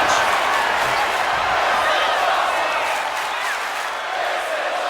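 A wrestling arena crowd roars and applauds continuously after bodies crash through a wooden table in a tables elimination match, a dense sustained wash of cheering and clapping.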